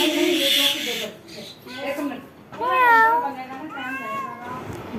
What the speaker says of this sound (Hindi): घर की दीवार पर आई हुई थी बिल्ली